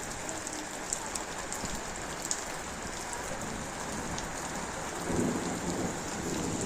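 Steady rain pours down in Chandshe village, Devgad, during the first monsoon shower, a dense continuous hiss of drops hitting surfaces nearby, with no voices over it.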